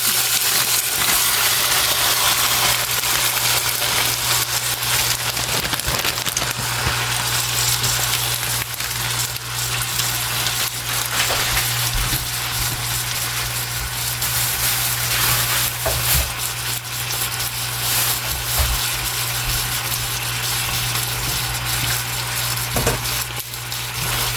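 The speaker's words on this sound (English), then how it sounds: "so now I'm going to saute the meat" Meat sautéing and browning in a pan, a steady close sizzle and fry hiss filling the whole stretch, with occasional stirring scrapes and faint clinks and a constant low hum beneath.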